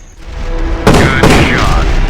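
Loud wartime combat in the video game Battle Supremacy: a heavy boom bursts in after a quieter stretch, followed by another blast and a rumbling, whistling tail.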